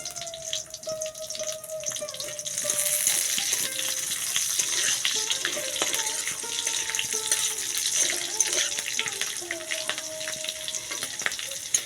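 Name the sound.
green chilies, five-spice and cumin seeds frying in oil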